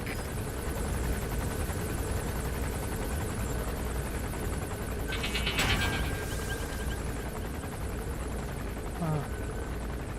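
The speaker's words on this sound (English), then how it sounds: "I think I just heard a helicopter in the distance. It sounds like it's heading straight for us." A helicopter drones in the distance in the video game Metal Gear Solid V, a faint continuous rotor hum under steady game ambience, with a brief brighter burst midway.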